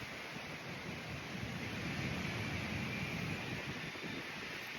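Soft wind rushes and buffets across the microphone, a faint, continuous low rumble with no voices.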